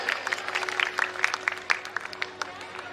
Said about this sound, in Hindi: कौन कंजूसी वाली ताली बजा रहा है?